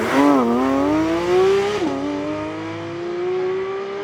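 A Porsche GT3 RS engine revs hard and loud, its pitch sweeping up, dipping briefly at a gear change near the two-second mark, then climbing again in a sustained high wail.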